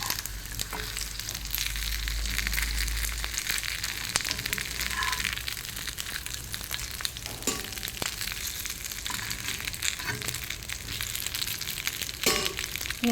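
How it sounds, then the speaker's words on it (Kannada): Steady, dense sizzling of patrode, steamed colocasia leaf rolls, frying in a covered pan over a gas flame, holding an even moderate level throughout with a few faint clicks. "ಸೈಡ್ ಡಿಶ್ಶಿಗೆ ಸ್ವಲ್ಪ ಫ್ರೈ ಆಗಲಿ."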